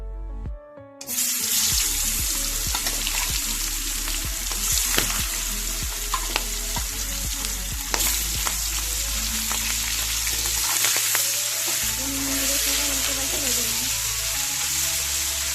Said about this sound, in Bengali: এবার লবণ হলুদ মাখানো শিঙি মাছ দিয়ে দেবো তেলের উপরে।